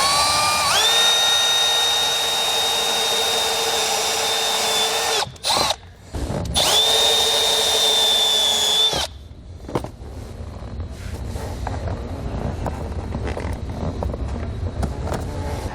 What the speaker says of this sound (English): grab a step drill bit and then slowly start drilling